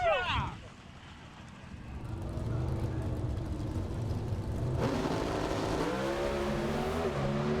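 Two drag racing cars launch side by side off the starting line at a Dallas event, engines roaring and building in loud rising revs after an opening burst, with a voice talking over the engines.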